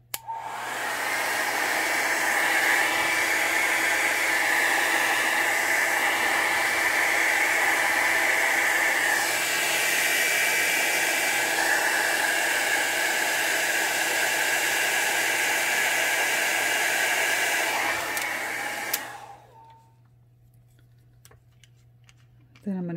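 A hair dryer blows continuously and close for about nineteen seconds, drying brown alcohol ink on a painted feathery flower, then switches off, leaving near silence.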